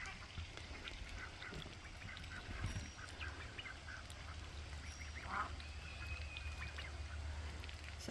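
Ducks, geese and turkeys gather at morning feeding time outdoors, mating chases underway; faint scattered quacks and honks rise over a steady low rumble of background noise, with no talking.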